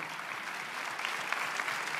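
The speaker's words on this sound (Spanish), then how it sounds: "queremos agradecer con este aplauso a todos los que nos han ayudado" Brief, steady applause from a crowd at the Teletón 2022 opening night, thanking helpers, a soft continuous patter of many hands with no voices.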